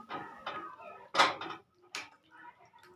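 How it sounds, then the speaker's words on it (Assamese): A spoon stirring rohu fish curry masala in a pot after water is added, a few clinks and scrapes of metal against the pot in short, irregular strokes, fairly soft and close. "এয়া লৰাই দিছোঁ।"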